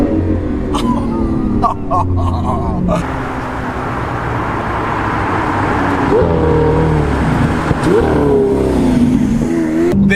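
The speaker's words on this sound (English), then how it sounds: "when you downshift and you're slowing down" A loud modified Lamborghini Aventador engine revs and drops through gears while downshifting, its pitch rising and falling repeatedly, with a person talking over it.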